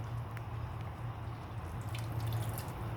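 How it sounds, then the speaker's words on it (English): Water trickles and drips into a pan of cooking masala, a faint soft splashing over a low steady hum with a few light drops near the end. "add in some water"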